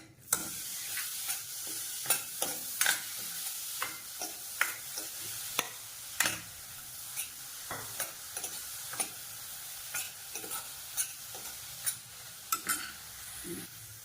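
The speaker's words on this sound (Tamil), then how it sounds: "ஒரு ரெண்டு நிமிஷம் இந்த கேரட்டை வந்து நல்லா இந்த நெய்யில் வந்து வதக்கிக்கணும்" Grated carrot and semolina sauté in ghee for a sweet, a soft sizzle under regular, close scraping strokes of a spoon stirring the pan, repeating steadily throughout.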